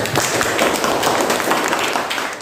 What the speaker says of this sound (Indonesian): tepuk tangan dulu untuk Pak Rina